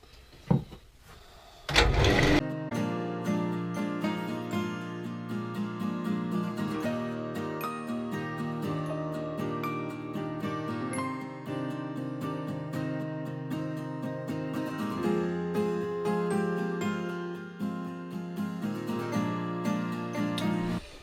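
A wood lathe hollows out a turned piece by hand with a spindle gouge, giving a sustained whining hum full of shifting harmonic tones. It runs steadily for about nineteen seconds after a brief knock at the start, with no talking.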